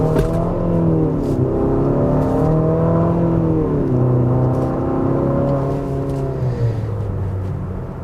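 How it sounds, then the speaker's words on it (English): A 2025 Infiniti QX60 Luxe with a turbocharged four-cylinder accelerating from a stop, the engine note droning and rising steadily in pitch, loud and close inside the cabin for several seconds. "The Turbo 4 is a bit more lethargic, and it's a bit more lagging when you're accelerating off the line, as I'm about to demonstrate right here."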